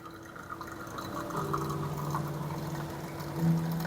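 Espresso dripping from a Flair 58 lever espresso maker into a cup, a steady soft trickle with a faint hum beneath, fairly close and continuous.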